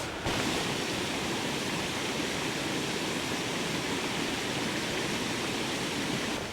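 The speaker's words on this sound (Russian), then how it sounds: "Вода слышно хорошо, с гор бежит." Water from a mountain stream rushes steadily downhill on a hiking trail, a constant broadband roar heard up close and fairly loud, unbroken for the whole stretch with no voices over it.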